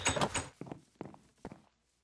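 A wooden door in Minecraft with the Millenaire mod opens with a short thunk, followed by a few soft blocky footstep-like knocks in a quiet room.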